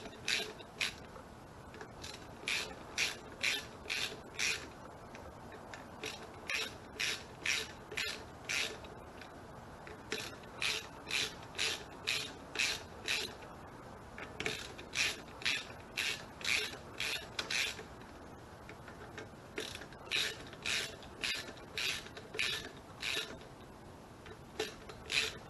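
Ratchet wrench tightening the pressure plate bolts on a KTM RC8 clutch, steady bursts of rapid clicking repeated in short rhythmic runs with brief pauses between, close and fairly quiet.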